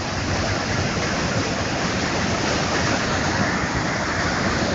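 A flooded river overflowing its banks and rushing across a road beside it, a loud, steady roar of fast water that fills the whole clip with no pauses.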